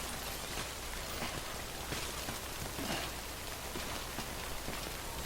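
Steady rainfall called timefall in the video game Death Stranding, a dense continuous hiss of drops hitting surfaces with no letup and no voices.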